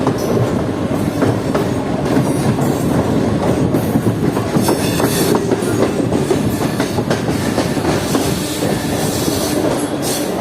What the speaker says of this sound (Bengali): প্রায় 2 মিনিট ধরে দাঁড়িয়ে রাখার পর ট্রেনটি ধীরে ধীরে আবার দেখতে পাচ্ছেন আপনারা সামনে মেন লাইনে ট্রেন নিয়ে নিচ্ছে